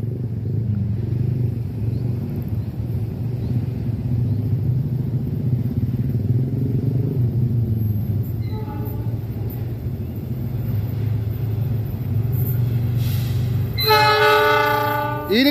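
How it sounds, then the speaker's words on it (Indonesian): A Lodaya Pagi passenger locomotive approaches on an Indonesian railway with a steady, growing diesel rumble, then sounds a loud, sustained multi-tone horn near the end. "Dan gemuruh lokomotif semakin dekat terdengar."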